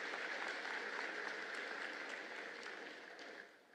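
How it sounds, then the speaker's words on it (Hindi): An audience applauds at a graduation convocation ceremony. Sustained, faint, distant clapping fills the space, then tapers off near the end. "एक बार आप सभी जोरदार ताली बजाकर उन सभी का स्वागत और अभिनंदन करें"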